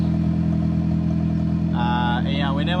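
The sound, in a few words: 1990 model four-door car engine running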